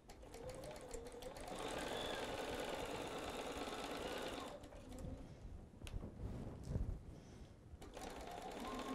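Sewing machine stitching a half-inch seam on a fabric shopper tote, running in a steady fast whir for several seconds, then stopping and starting in short bursts with faint fabric handling between.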